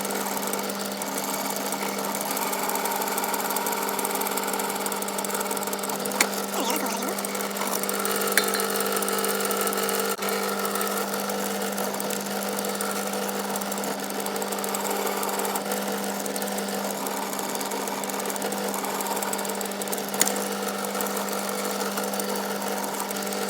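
Power drill runs continuously for a long stretch, a steady loud whine with a constant buzzing drone during repair of a Mercedes M111 camshaft magnet, with a few brief clicks.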